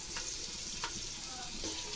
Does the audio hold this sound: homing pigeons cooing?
no